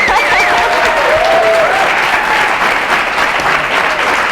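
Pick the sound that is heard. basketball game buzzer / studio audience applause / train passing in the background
studio audience applause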